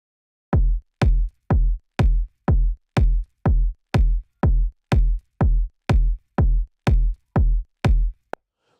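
Layered kick drum from a pop mix, driven hard into a 77 compressor, thumps fourteen times in a steady even pulse, punchy and upfront with no other sound around it.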